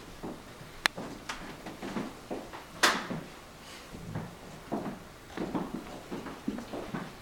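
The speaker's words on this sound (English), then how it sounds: "this features fold down fronts on both the right and left facing drawers to accommodate today's electronics" The fold-down drawer fronts on an entertainment console are handled, giving quiet wooden knocks, a couple of sharp clicks and soft thumps spread over several seconds in a still room.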